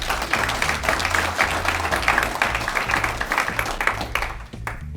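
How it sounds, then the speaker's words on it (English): A town-hall audience gives a round of applause during a 2022 State of the Town address in Dumfries, a dense, steady clapping that stays at a moderate level and fades near the end. "Give Rick and Rosie's community a round of applause for that."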